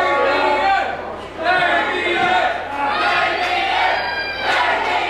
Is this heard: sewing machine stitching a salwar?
no